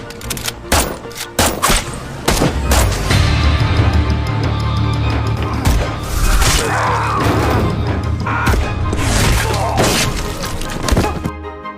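A film gunfight between police and a shooter, with bursts of loud gunshots, impacts and crashes over a rumbling dramatic score, the shots coming in rapid clusters.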